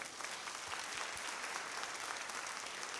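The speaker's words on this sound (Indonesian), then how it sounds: "将掌声归给我们的神。" A congregation applauds during an evening worship and prayer workshop, a dense, steady wash of many hands clapping that sounds somewhat distant and fairly soft, continuing evenly throughout without speech.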